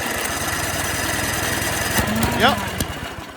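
An old Ariens snowblower engine chugs steadily nearby in a rapid, rattling idle that builds slightly toward the end, with someone speaking over it and a few sharp clicks.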